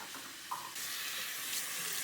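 Tap water runs into a sink while a tie-dyed T-shirt is rinsed, a soft trickle that swells into a steady, louder hiss of flowing water after a brief clunk.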